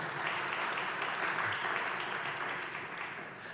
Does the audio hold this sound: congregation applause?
yes